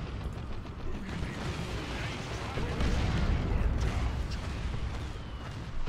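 Rocket volley in the real-time strategy game Dawn of War 2 Retribution, a rapid clattering barrage of launches and blasts with a heavy low rumble that grows louder halfway through amid ongoing battle noise.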